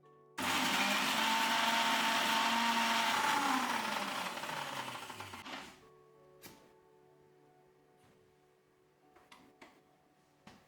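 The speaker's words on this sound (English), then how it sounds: "Add the aromatics to a blender and blend to a fine paste." A blender whirs loudly for about five seconds as it purees aromatics for a Punjabi pickle into a fine paste, pitch sagging as it works, then cuts off, leaving faint kitchen clicks and taps.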